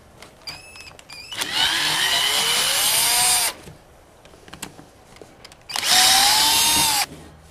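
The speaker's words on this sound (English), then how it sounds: "This is where we're going to actually drill the hole." A power drill bores a hole into a sprinkler valve cover, running in two loud whining bursts separated by a short pause with small clicks and handling noises.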